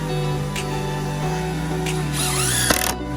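A power drill driving screws into a wooden deck outdoors, short whirring bursts of the motor stopping and starting over a steady background hum, close and fairly loud.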